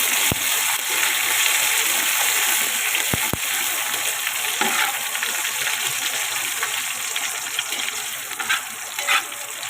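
Chili peppers frying in hot oil for a poha chivda, a dense continuous sizzle with a few sharp clicks of the pan, close and steady throughout, no talking.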